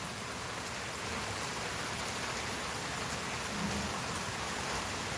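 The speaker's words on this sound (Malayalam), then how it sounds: "ചെറിയ മഴ" Soft, steady patter of light rain, a quiet continuous hiss with no voices.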